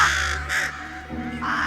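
A crow caws twice in harsh, nasal calls, fairly loud and close, set against a sustained tonal backdrop of music or drone from a TV series scene.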